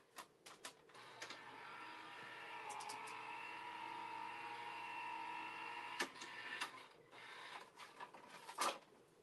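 An embossing machine cranks a 3D embossing folder sandwich through its rollers, a soft, steady mechanical grinding hum lasting several seconds, bracketed by quiet clicks and handling knocks.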